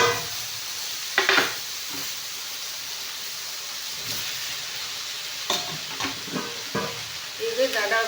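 Onion, potato and other vegetables fry and sizzle in a pan with a steady hiss, and stirring scrapes come through now and then, close and clear with no talk.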